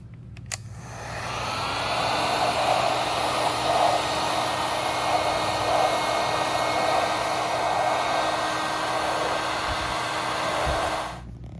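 A heat gun softening old glue on a side view mirror blows a loud, steady, close whoosh. It starts abruptly, holds constant for about ten seconds, then cuts off, and there is no talking.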